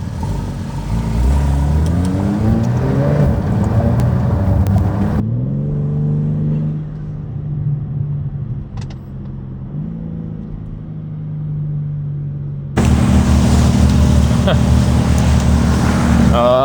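Engines of a Porsche GT3 RS and a BMW M3 rumble and rev while driving, loud and close, with the note shifting as they accelerate, fading to a quieter drone midway, then swelling again.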